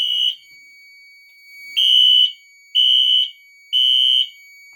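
A Fire-Lite MS-9600UDLS fire alarm panel sounds after a photoelectric smoke detector trips in a second-floor hallway, giving four loud, shrill electronic beeps in a steady on-off pattern with short gaps between them.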